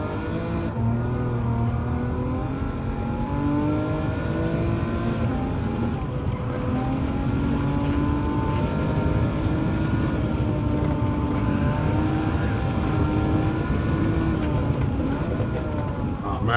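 A race car engine in Gran Turismo 7 drones continuously under steady throttle, loud and close, its pitch rising and falling gently through the run with no voices over it.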